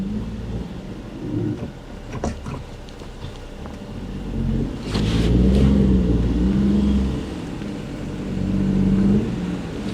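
A small Daihatsu car (Charade/Mira/Cuore L251) drives with a low engine rumble that rises and falls as it accelerates, heard from inside, alongside some clunks and rattles and no talk.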